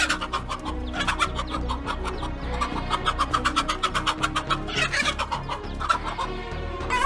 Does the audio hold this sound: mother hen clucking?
yes